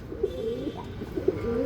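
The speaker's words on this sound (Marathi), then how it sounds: "फुल गॅरंटेड कबूतर आहे" Pigeons from breeding pairs kept for sale coo softly and repeatedly at close range. The low rolling calls come in short bursts over a quiet background, with no talking.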